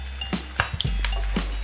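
Prawns stirred in a hot pan for sambal prawns, giving a steady sizzle broken by a few sharp clinks and scrapes of the utensil against the pan.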